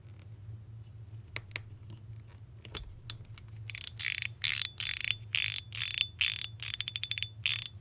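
A series of sharp plastic clicks and snaps as a puzzle cube piece is popped back in, sparse at first, then a rapid run of loud ratcheting clicks close up over a low steady hum.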